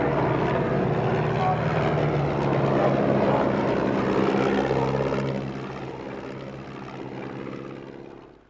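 A de Havilland Moth propeller biplane flies at a British airshow in 1998, its engine a continuous loud, rough drone that eases off slightly and fades away at the end.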